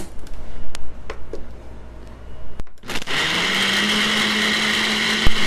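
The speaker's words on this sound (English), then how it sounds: "We are ready to blend, so here it goes." A blender whirs steadily as it blends a cherry smoothie, starting abruptly after a few quiet clicks and handling sounds and then running loud and continuous to the end.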